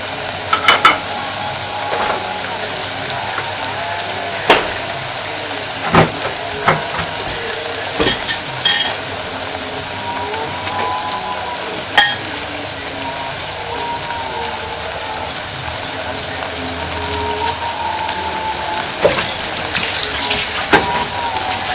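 Plantain fries on a stove set to 6, making a constant crackling sizzle with frequent scrapes and clicks from stirring. It runs unbroken for about twenty seconds with no speech.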